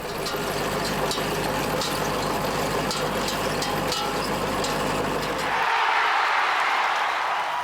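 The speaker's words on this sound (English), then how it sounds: "my dad can come along with the potato harvester to scoop them up and let them cure in the sun" Tractor-drawn potato harvester lifting onions in a field: a steady, loud diesel engine drone with mechanical clatter, which cuts off near the end and gives way to wind or hiss.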